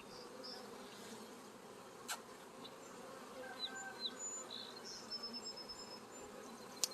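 Bees buzz around hive frames in a continuous soft drone, fairly faint and spread out, with a few short brighter passes as individual insects fly near.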